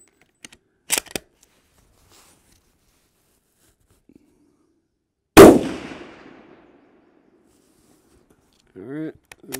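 A single suppressed shot from a CZ 527 carbine rifle at an outdoor range: one loud, sharp crack with a short decaying tail, set apart from faint handling clicks before it and a brief voice near the end.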